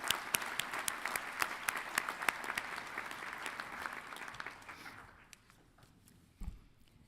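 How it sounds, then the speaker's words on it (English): Audience applause at a College of Veterinary Medicine and Biomedical Sciences commencement ceremony, a dense, steady clapping from a large crowd that thins out after about five seconds, followed by a brief low thump. "Please join me in applauding their accomplishments of this group of young colleagues."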